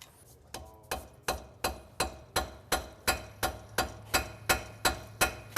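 A rounding hammer rings on hot metal in a steady rhythm, about a dozen sharp, bright strikes evenly spaced, close and clear over a low hum.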